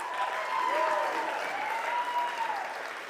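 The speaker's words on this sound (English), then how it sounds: "We can clap for that. Can we clap for that?" Room applause at a literary press benefit auction, a sustained wash of clapping at moderate level with a faint tonal ring running through it.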